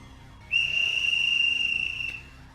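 A single steady high-pitched whistle blast in a video game, clear and sustained for over a second over faint background noise, then cut off.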